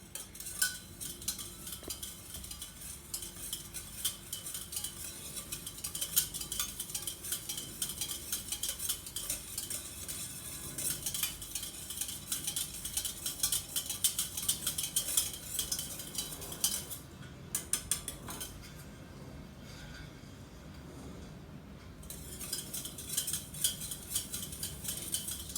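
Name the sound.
stirring homemade yogurt in a pot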